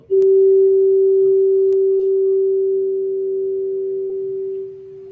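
A sustained synthesizer note with a shimmer effect rings steady for about five seconds, its pure tone slightly wavering and thickening as it goes, then easing off at the end; no one speaks.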